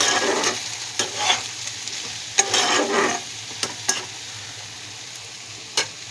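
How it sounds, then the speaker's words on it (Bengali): Taro stolon curry sautéing in a pan: a soft frying sizzle under a few sharp scraping stirs, loudest early on and then thinning to a quiet hiss with one late clink. "এবারে ঢাকা দিয়ে সুন্দর করে আগে কষাবো"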